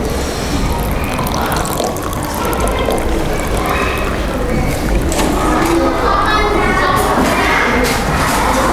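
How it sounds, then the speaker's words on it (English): Hot water is poured into a glass over a tea bag, a loud, close and continuous splashing pour lasting several seconds, with faint background voices. "you pour in the hot water from, you pour it to the glass."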